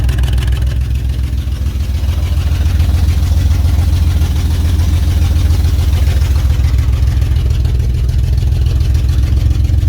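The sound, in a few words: old Jaguar car engine idling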